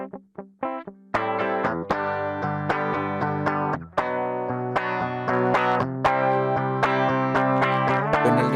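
An electric guitar played through a POD HD or Helix compressor set to a more moderate level: a few plucked notes, then sustained chords and picked lines ring clearly and evenly, alone without talk.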